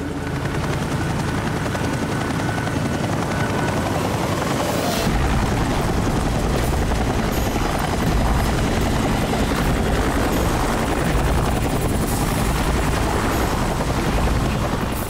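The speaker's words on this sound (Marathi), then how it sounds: "हे हेलिकॉप्टर एवढ्या खालून का उडतंय?" A helicopter roars low overhead, its heavy rotor thump and engine drone loud and steady throughout, with no voices.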